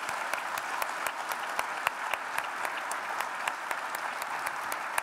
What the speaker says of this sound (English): Can we please give them a very warm round of applause